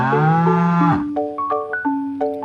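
A bull gives one long, loud low moo, followed by a series of short, bright electronic tones, with no talking.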